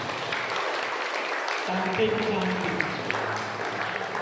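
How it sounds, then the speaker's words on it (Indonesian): An audience at a priest's birthday celebration bursts into broad, sustained applause that keeps going to the end, while a voice speaks briefly over the clapping. "Kita beri tepuk tangan ini."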